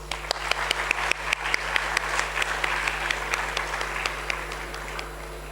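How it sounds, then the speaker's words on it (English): An audience at a stage event gives a round of applause as a memento is presented, with sharp individual claps standing out over a steady crowd patter and a low electrical hum beneath. "Guys, the claps, please."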